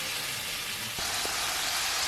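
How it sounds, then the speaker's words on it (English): Pork frying in olive oil in a small apartment kitchen gives a steady, hissing sizzle, a broadband crackle that runs without break through the whole stretch with no talking. "You can hear that sizzle."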